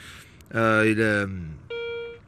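Garrett Ace 250 metal detector in a farm field gives a short, clear electronic tone right after a brief vocal sound, its steady beep lasting about half a second.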